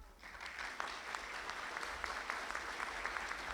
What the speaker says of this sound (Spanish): quiero solicitar un aplauso